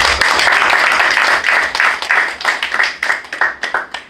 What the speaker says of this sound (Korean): 우리 박사님을 위해서 한번 박수 한번